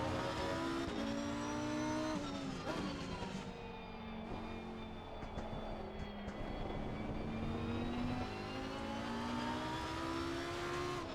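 Lamborghini Huracan EVO race car at the Hungaroring: a loud engine at a steady distance, revving up and down through gear shifts with rising and falling pitch sweeps, no speech.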